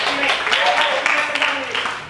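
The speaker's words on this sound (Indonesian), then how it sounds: "Kasih tepuk tangan dulu" A group of children at an Islamic boarding school claps together during a magic and hypnosis game, steady broadband clapping that fills the short moment, with voices mixed in underneath.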